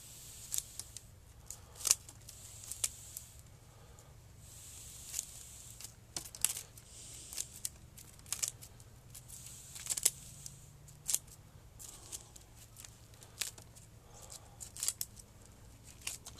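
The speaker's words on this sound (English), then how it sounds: "Get the scissors. I want to chop all the way around the perimeter." Scissors snip around the perimeter of a small shohin premna bonsai, a slow uneven series of sharp close clicks and cuts with quiet gaps between them.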